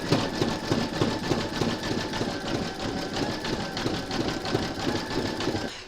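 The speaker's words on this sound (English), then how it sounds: "Pop your hoop into your machine and stitch round number 9, and that's going to zigzag along this stitch line" An embroidery machine zigzags around a large appliqué gnome piece, a continuous loud mechanical whir with a rapid, even pulse from start to finish.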